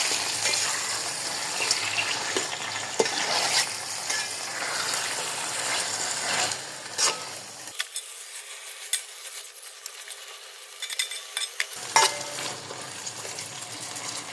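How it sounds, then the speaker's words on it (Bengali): Marinated chicken stirred and fried in a pot of hot oil with cinnamon, cardamom and cloves for chicken biryani, a steady close sizzle with scraping stirs, briefly dropping quieter midway before the frying noise returns. "এবার ভালো করে নেড়ে চেড়ে কষিয়ে দেব।"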